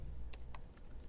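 Quiet computer keyboard typing: three light, evenly spaced keystroke clicks over a faint background hum, with no voice.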